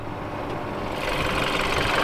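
A 2013 BMW 328i xDrive with a twin power turbo engine idles steadily, a smooth continuous hum with a slight rise in level partway through and no talking.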